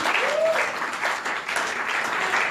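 A church congregation claps and cheers in acclaim of Jesus, a dense, continuous wash of applause filling the room, with a brief raised voice rising above the crowd near the start.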